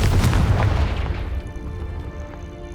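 A Confringo blasting spell from the Hogwarts Legacy video game bursts in a loud, heavy boom that rolls off into a lingering, fading rumble.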